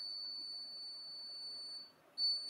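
A piezo buzzer on an Arduino IR obstacle-sensor circuit gives a steady high-pitched electronic tone that holds for about two seconds, cuts out briefly, then starts again, close and fairly loud over faint background hiss.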